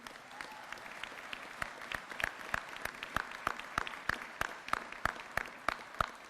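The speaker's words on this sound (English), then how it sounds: "Let's give a round of applause for our families and their support." Sparse, steady clapping from a small audience at a New York City Sanitation graduation and promotion ceremony, fairly faint, with individual claps standing out in an even rhythm.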